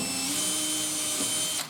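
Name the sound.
drill pre-drilling a screw hole in a kitchen panel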